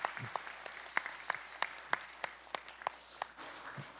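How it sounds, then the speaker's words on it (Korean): Churchgoers applaud the graduates of a faith-training course, a continuous round of clapping from a sizable crowd with crisp individual claps popping out over the dense patter, heard from a moderate distance in a reverberant sanctuary. "다시 한번 모든 수료생들을 향해 힘찬 축하의 박수를 부탁드립니다."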